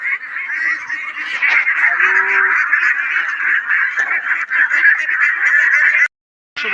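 Local ducks being weighed quack and honk loudly and continuously up close, a dense, unbroken flock chorus that cuts out briefly near the end.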